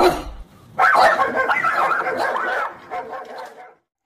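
A dog barking in a children's alphabet song, a few short yapping barks in a quick cluster that stand out clearly and then stop.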